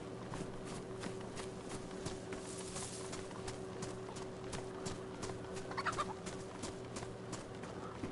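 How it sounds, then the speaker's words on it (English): In DayZ, a chicken clucks faintly somewhere off in the distance, its soft, scattered calls half buried beneath steady footsteps and low ambient game noise. "Oh, I hear a chicken."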